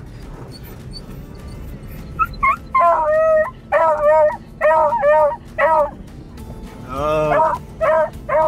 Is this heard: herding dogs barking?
yes